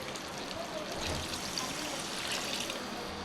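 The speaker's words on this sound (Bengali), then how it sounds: "ওকে বন্ধুরা, এখন কষানো হয়ে গেছে। আমি এখন পানি দিয়ে দিব।" Water is poured into a pot of desi (country) chicken curry after the masala has been sautéed. A close, steady rushing pour lasts the whole stretch without a break.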